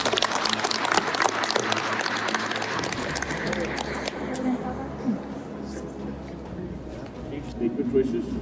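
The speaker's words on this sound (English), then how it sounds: "A round of applause." A crowd at a promotion ceremony gives a round of applause, dense clapping at first that gradually thins and fades into room murmur.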